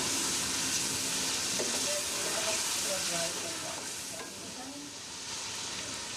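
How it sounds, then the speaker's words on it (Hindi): Chopped tomatoes for chicken biryani frying and being stirred in a pan, giving a dense, continuous hiss with faint scraping knocks of the spoon, close and steady, easing slightly toward the end. "टमाटर को अच्छे से भूनना है ताकि पूरे हल हो जाएं। अच्छे से मिक्स करना है।"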